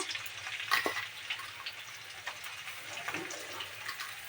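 Fifty grams of onions frying in sunflower oil in a pan for ghugni, a soft, steady crackle with small pops and a brief clatter near the start.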